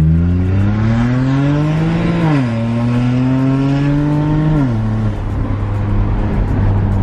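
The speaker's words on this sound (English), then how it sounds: "First pull, catless downpipes," Loud, close BMW 135i with an N54 engine, catless downpipes and a muffler delete, revving hard in two rising pulls with gear changes near 2.3 and 4.8 seconds, then dropping back to a steady idle.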